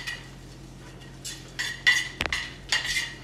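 Carbonara pasta stirred off the heat in a pan with egg yolk and bacon fat, utensil scraping and clinking against the metal in a few close, brief bursts with quiet gaps between.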